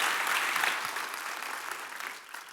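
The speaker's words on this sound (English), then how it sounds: "give another round of applause for SBC" Audience at a live evening event giving a round of applause, a dense, fairly distant patter of many hands clapping that gradually tapers off over a few seconds.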